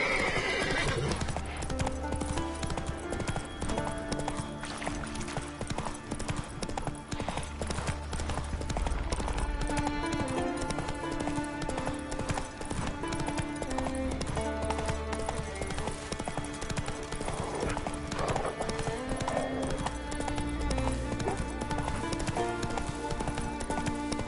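Roach, the horse in The Witcher video game, clip-clops at a steady gait with whinnies and neighs over a dense, continuous game soundscape with background music.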